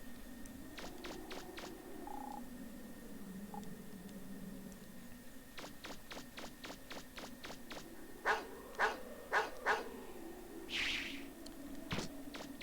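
Dogs in the Mega Man Legends video game, with bursts of short, sharp synthetic barks repeated in quick series against quiet game ambience, plus a few louder thumping hits near the end.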